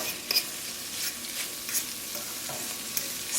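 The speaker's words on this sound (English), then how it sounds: "So I sauteed the mushrooms with a little bit of vegan butter and grapeseed oil." Mushrooms sautéing in a pan with vegan butter and grapeseed oil give a steady, close sizzle with soft stirring scrapes and a few sharper ticks, and no voices.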